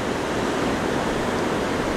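Atlantic Ocean surf breaking on the beach at Porto, Portugal, a steady, loud wash of white noise filling the whole moment without pause.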